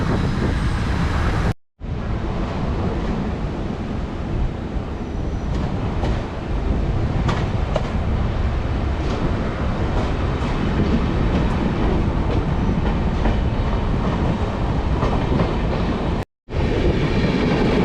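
A Kalka Shatabdi passenger train overtakes on the main line close by for a long stretch, steady broadband roar with faint rhythmic clatter of wheels, loud and continuous without speech.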